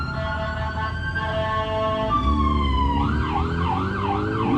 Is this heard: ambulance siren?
yes